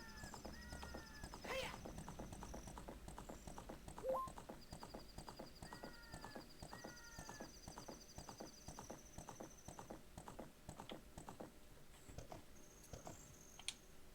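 Hooves clip-clop at a steady, rapid trot throughout in Zelda: Ocarina of Time, with soft game chimes and tones now and then and a faint snort partway through.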